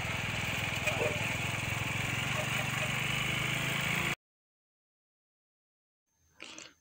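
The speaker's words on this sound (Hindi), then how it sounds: "हालांकि रोड खराब होने के कारण बाइक की आवाज़ ज़्यादा आ रही है" Motorbike engine droning steadily on a rough, bumpy stretch of the GT Road, loud and continuous for about four seconds before cutting to silence, followed by a brief faint burst of noise at the end.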